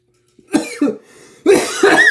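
Repeated coughing from a person smoking weed from a pipe during a long session, several harsh bursts in two clusters, close and loud, with no talk.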